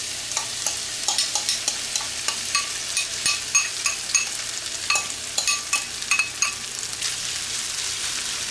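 Potatoes fry in a breakfast skillet under a steady sizzle, with a series of sharp scraping and clinking stirs from a utensil against the pan, close and clear with no speech.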